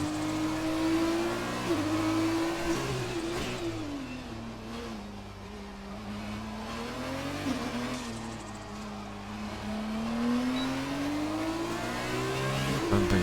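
F2 race cars lap the Monaco street circuit in a racing video game exhibition race, giving a continuous close engine whine that climbs and falls with throttle and gear changes. No one talks.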